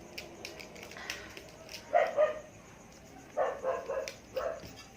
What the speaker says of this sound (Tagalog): Ang ingay ng aso guys.